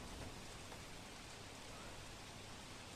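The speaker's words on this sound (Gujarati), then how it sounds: "વરસાદ વરસી રહ્યો છે" Heavy monsoon rain pours steadily near a swollen river in Valsad, a dense, unbroken wash of noise that holds at the same level from start to finish with no voices.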